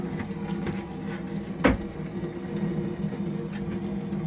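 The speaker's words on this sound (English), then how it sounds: "you'll need to open all your taps in between hot and cold" Water running steadily from an opened tap set between hot and cold in a 2006 Hobby 650 motorhome, a continuous close hiss with a brief louder splash partway through.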